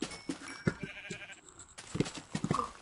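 A sheep in the video game Minecraft gives several bleats spread across a few seconds, mixed with other quiet game sounds and no clear speech.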